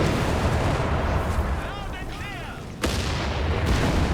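A tank gun shot in Company of Heroes 3 during battle, a sharp sudden blast near the end over constant rumbling combat noise, with a brief whistling sound just before.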